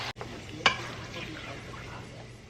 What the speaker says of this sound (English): I'm gonna go ahead saute my veggies